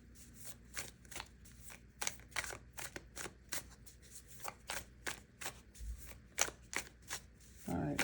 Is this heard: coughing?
no